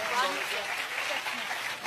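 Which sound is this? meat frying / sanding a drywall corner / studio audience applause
studio audience applause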